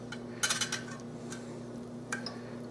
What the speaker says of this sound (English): maybe I can get my spatula in there